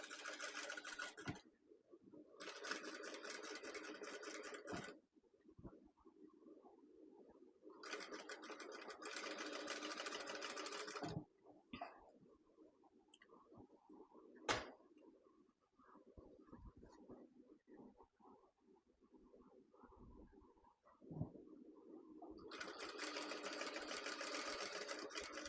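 A sewing machine stitches along the canvas edge of a nighty neckline. It runs in several loud, rapid bursts separated by quiet pauses.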